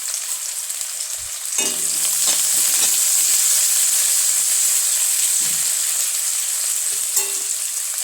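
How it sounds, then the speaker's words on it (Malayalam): Onions frying in a pan for a meat curry. A quieter hiss swells suddenly into a loud, steady sizzle, with a few stirring clinks and scrapes on top and no talking. "ആ സവോള ഒന്ന് മുരിഞ്ഞ് കിട്ടട്ടെ."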